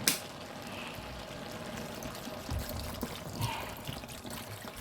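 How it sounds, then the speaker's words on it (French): Water is poured into a pot of veal blanquette à la provençale, a steady soft splashing and trickling that stays fairly quiet and even, with a couple of slightly louder gurgles near the middle. "Vous rajoutez de l'eau."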